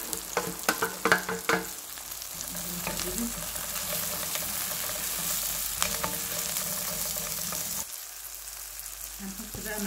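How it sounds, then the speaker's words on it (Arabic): Onions sizzle steadily in a hot pan as they are stirred together with hot chili and colored bell peppers. A few clinks of the spoon come early on, under a constant close frying hiss. "نقلب في البصل اهوت، نحط بقى الشطة اللي هي الحراقة الحارة دي برضو كده، تقليبة كده صغيرة بس."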